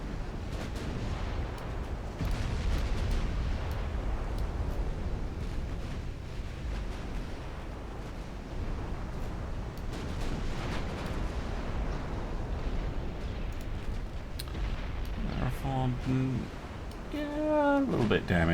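Ship cannons in a naval battle game fire armour-piercing shot in a sustained series of heavy booms and rumbling blasts, dense and loud, while a voice talks over the broadside.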